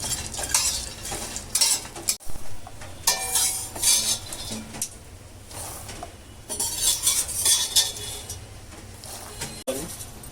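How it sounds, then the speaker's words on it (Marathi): Pumpkin seeds dry-roast in a pan over low heat, with a spoon scraping and clinking against the metal in uneven bursts, close by, under quiet talk. "भोपळ्याच्या बिया देखील आपण भाजून घेऊ। हे मंद आचेवरती भाजावं लागतं।"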